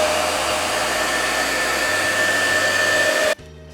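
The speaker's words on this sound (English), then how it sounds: "Again, hairdryer, heating, etc," A hair dryer blows steadily and loudly at close range while heating old decals on a bicycle rim, a constant whooshing whine that cuts off abruptly near the end.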